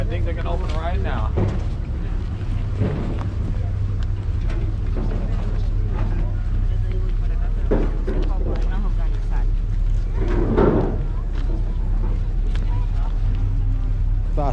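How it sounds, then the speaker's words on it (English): A sightseeing cruise boat in Boston rumbles with a constant low engine drone and wind buffeting the microphone, while people chat nearby over the steady hum. "We're going on the boat."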